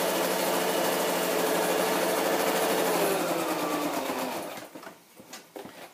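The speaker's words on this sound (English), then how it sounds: "And I'm just using a Brother sewing machine. This model is XL2600i." A Brother XL2600i sewing machine stitching across a scrapbook page, whirring loudly and steadily at close range for about four seconds before slowing and stopping, followed by a few light handling knocks.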